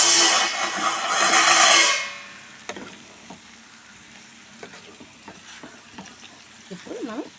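Drumstick and dried prawn curry stirred in a pan: a loud sizzling, scraping stir for about two seconds, then quieter faint sizzle with occasional light utensil clicks.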